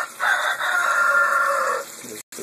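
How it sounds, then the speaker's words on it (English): A rooster crows loudly and close by, one long drawn-out call lasting about two seconds, followed by a short pause and faint background noise. "There's the rooster."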